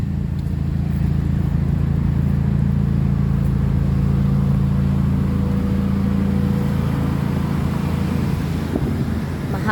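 Street traffic passing during a walk outdoors, a steady low rumble of engines with wind buffeting the microphone, continuous and fairly loud throughout, with no speech.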